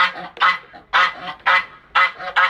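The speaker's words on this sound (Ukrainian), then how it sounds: "гуси, які гарлають" Geese honk loudly and close by, a series of about half a dozen harsh, irregular calls with brief pauses between them.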